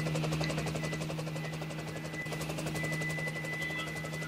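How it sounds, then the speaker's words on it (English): Constant droning hum with rapid rotor chop of a helicopter flying up the Hudson River over Manhattan, steady and close throughout. "the helicopter actually flies up the Hudson River"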